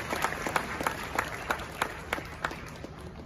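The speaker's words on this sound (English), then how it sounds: "Please help me with a big round of applause to welcome the Honorable Felix Kwachu-Fosu." Scattered audience applause at an awards ceremony as a government minister is welcomed to the stage: a loose run of individual claps, moderately close, with a steady background murmur and no other sound standing out.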